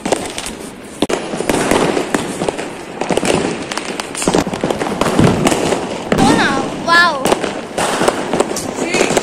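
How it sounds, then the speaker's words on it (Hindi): Diwali rocket fireworks are set off outdoors, with repeated crackling bursts and pops and a few whistling rises scattered through the clip while people talk and call out. "पहले पहले रॉकेट चलाएंगे"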